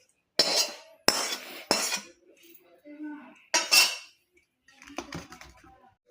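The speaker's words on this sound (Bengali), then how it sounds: "মাছটা এবার থালার মধ্যে আমি ঢেলে নিচ্ছি।" Cooked fish tipped from a pan onto a plate, with several loud metallic scrapes and clanks of a utensil against pan and plate, separated by brief pauses, then softer scraping toward the end.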